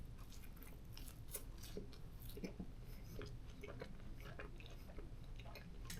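French fries are eaten up close, with soft, irregular chewing and crunching bites at a quiet level and no talking.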